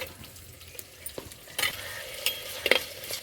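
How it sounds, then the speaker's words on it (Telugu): Tempering seeds fry in oil in a clay pot for Telugu crab curry, giving a soft steady sizzle broken by sharp pops and crackles, with no talking. "తిరగమాత గింజలు అయితే వేసుకుంటున్నా"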